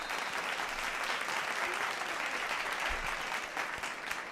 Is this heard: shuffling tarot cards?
no